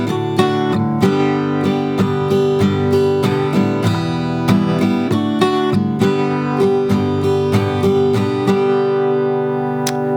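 Acoustic-style rhythm guitar strumming a steady, open pattern of down and up strokes, even and moderately loud, alone with no voice.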